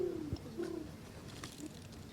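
A person's voice imitates a pigeon cooing, giving two or three soft, low throaty coos close to the listener with nothing else around.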